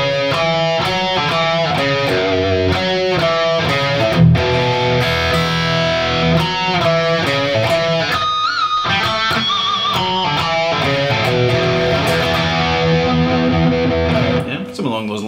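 Distorted electric guitar plays a riff slowly, with dense, sustained heavily overdriven chords and notes that ring continuously at close, loud level throughout, with no talk.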